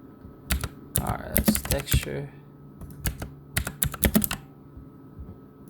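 Bursts of quick keyboard typing, close and crisp, with pauses between flurries and a steady low hum underneath.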